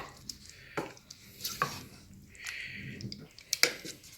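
Chicken kabob meat being mixed by hand in a marinade sauce, giving wet squishing and stirring sounds in irregular bursts, close up, with a few sharper clicks of a bowl or utensil.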